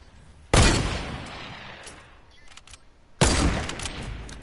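Gunfire in a PS4 shooter game, with two sudden loud bursts of rapid shots that each trail off into a decaying rumble, separated by a quieter stretch with scattered clicks.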